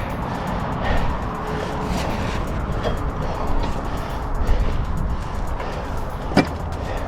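Traffic on a dual carriageway, heard from the roadside, makes a continuous rushing roar of cars with faint tire noise and a few sharper swells as vehicles pass close.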